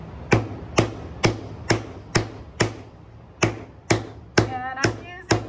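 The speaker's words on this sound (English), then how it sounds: "I'm using the big part of the head because then I don't have to hammer as many times." A nylon hammer strikes a metal disc as it is sunk, working from the center in a spiral, giving ten sharp, evenly spaced blows about half a second apart, close and loud, with a faint ringing tone after the last few hits.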